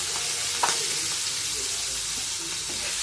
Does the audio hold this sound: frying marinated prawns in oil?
yes